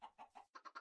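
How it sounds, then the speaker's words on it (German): Minecraft chickens clucking, six quick, evenly spaced clucks in two short groups of three, quiet and close with no talk over them. "Die dummen Hühner"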